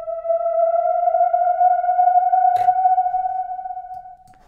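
Synth for an RnB/neo soul track sustains a single pure, steady tone with a faint overtone for about four seconds, with a brief soft click partway through, before fading out.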